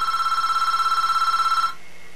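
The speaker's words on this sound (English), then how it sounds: "That stupid telephone has always got a habit of ringing while I'm trying to make a video." A telephone rings indoors with a steady electronic trill, one sustained burst of about a second and a half that cuts off abruptly, close and fairly loud with no talking.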